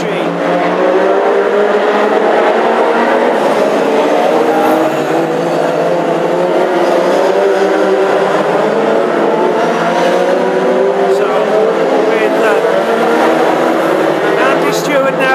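Classic hot rod race cars competing in a Midland Championship final at Northampton, a loud continuous engine roar with shifting pitch as cars race past, mixed under a commentator talking throughout.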